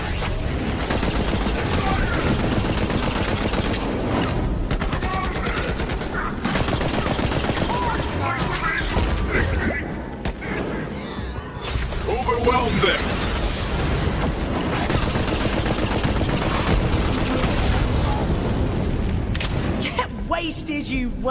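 Continuous heavy gunfire and combat noise in Borderlands 3, dense overlapping shots and impacts running throughout with a brief dip near the middle, with speech mixed in.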